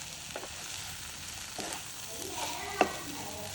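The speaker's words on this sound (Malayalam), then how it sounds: "എല്ലാം കൂടിയിട്ട് നല്ലോണം യോജിപ്പിച്ചെടുക്കാം" A chicken filling for kilikoodu snacks is stirred in a hot pan, a steady sizzle with scraping strokes of the spoon and one sharper knock near the end.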